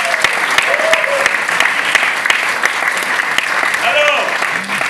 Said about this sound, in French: On applaudit pour ce gars.